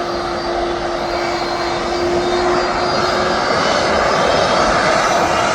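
Jet engines of a TUI airliner at Birmingham Airport produce a loud, close, continuous roar with a steady whining tone running through it, alone without voices.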